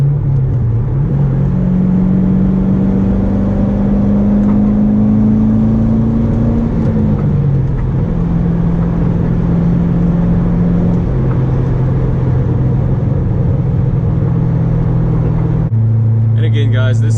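Interior drone of a Chevrolet C6 Corvette with an SLP exhaust accelerating in fourth gear at interstate speed, a steady loud engine hum rising in pitch then dropping and settling, with someone talking over it.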